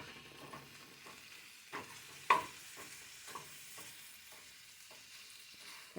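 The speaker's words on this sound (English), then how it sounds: "Now we're going to put the ground beef in the pan." Ground beef browns quietly in a pan, with a soft sizzle beneath a series of sharp scraping and chopping taps from a utensil breaking up the meat, plus one louder clack partway through.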